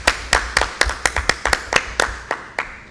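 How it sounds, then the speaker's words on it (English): A handful of people clap at a town council meeting in Colmar Manor, about a dozen separate, sharp claps in an uneven rhythm, close and distinct rather than a full ovation. "So can we give her a round of applause?"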